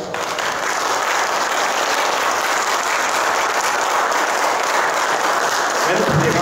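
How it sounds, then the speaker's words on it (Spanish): A crowd at an evening storytelling event with the town chronicler of Cuencamé, Mexico, gives steady, dense applause that holds at full strength for the whole stretch. "Muchas gracias, un fuerte aplauso."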